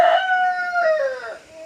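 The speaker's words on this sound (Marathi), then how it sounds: "कोंबडा वरडायला लागलाय बघा आता." A rooster crows once at a poultry farm, a single loud, close drawn-out call that rises and then tails off, with no talking.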